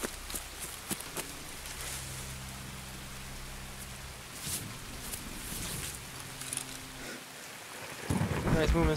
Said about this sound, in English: Flash and thunder.